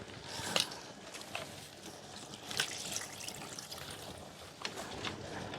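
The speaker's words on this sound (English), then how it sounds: "we do need to water the rest of these" Houseplants are watered indoors, with soft trickling and pouring water into pots and saucers, faint and intermittent, with a few brief louder splashes and no speech.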